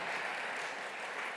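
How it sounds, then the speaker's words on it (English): Audience applause at the 2022 UNESCO Prize for Girls' and Women's Education ceremony, a steady, dense wash of many hands clapping at an even level throughout the brief moment, with no voices standing out. "Please, you can applaud."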